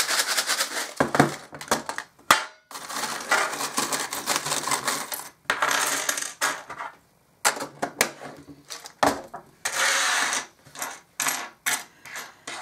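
Small metal charms jingle and clink repeatedly in bursts, close and fairly loud, with brief pauses between shakes and no talking.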